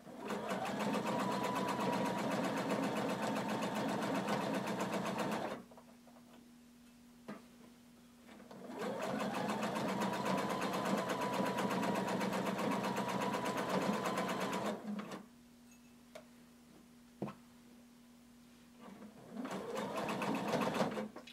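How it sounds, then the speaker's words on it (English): A sewing machine stitches around a hooded tunic in long steady runs of rapid mechanical whirring, stopping twice with brief clicks between and starting up again at the end. "And you're going to sew all the way around."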